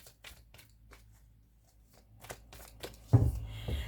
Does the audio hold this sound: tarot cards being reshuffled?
yes